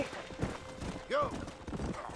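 A horse's hooves clop rhythmically at a gallop in a Red Dead Redemption game scene. The hoofbeats sound soft and fairly distant, mixed with a voice and other game sounds.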